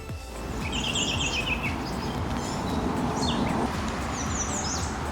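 Birds singing in a foggy park in the early morning, with repeated high chirps and short trills heard at a moderate distance over a steady low rumble of outdoor background noise.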